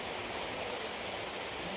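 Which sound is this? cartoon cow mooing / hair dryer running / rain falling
rain falling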